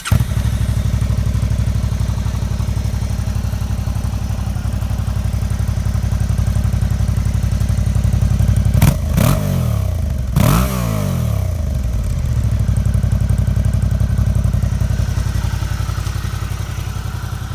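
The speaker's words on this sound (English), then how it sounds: "The exhaust that comes stock with the bike doesn't sound too bad itself." A Suzuki V-Strom 650XT V-twin motorcycle idles through its stock exhaust with a deep, loping rumble, blipped twice in quick revs midway before settling back to a steady idle.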